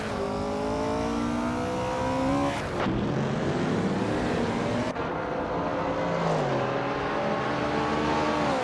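A 1969 Porsche 908/2 Spider prototype race car at a race start: a loud, steady engine roar with rising harmonic pitch, a gear-change drop at each shift, revving up again over the whole stretch with other cars underneath.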